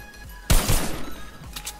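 Gunfire in the video game Fortnite, a loud sudden burst of shots that then trails off into quieter game ambience.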